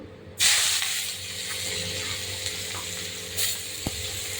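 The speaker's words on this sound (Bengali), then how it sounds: "জিরে লাল হয়ে গেছে এবার দিয়ে দেবো আমি পেঁয়াজ কুচি" Chopped onion hits hot oil with cumin seeds, a sudden loud sizzle that settles into a steady crackling fry, with a brief swell and a small tap near the end.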